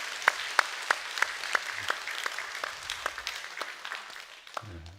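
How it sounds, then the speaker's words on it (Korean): Church congregation applauds the choir after a hymn, a run of sharp claps that is loud at first and thins out over about five seconds, ending with a short low vocal sound. "박수 한번 해주시죠."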